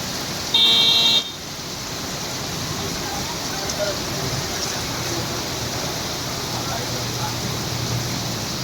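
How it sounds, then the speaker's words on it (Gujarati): Heavy unseasonal rain pours down outdoors with water running across the road, a dense, steady hiss that fills the whole clip after a brief electronic beep near the start. "અને ખૂબ સરસ વરસાદ આવી રહ્યો છે"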